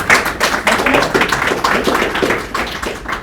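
A small meetup audience claps for a speaker at a developer talk, a short burst of many overlapping hand claps that stays fairly close and even before tapering slightly.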